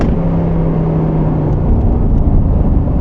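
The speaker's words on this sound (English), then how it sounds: "Shifting a little bit early because I love that noise." A car engine revs up briefly during an early downshift with paddle shifters, a steady loud drone that swells slightly near the end, with no talk.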